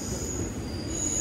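A train rolls through Otsuki station in Japan, its wheels squealing in a high, sustained screech over a low rumble, close and continuous.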